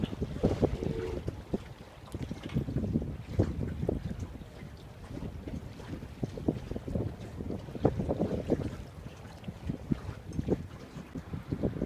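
A sailboat flying a spinnaker runs fast under wind on open water near a city bridge, with steady rushing wind buffeting the microphone and low water slaps throughout.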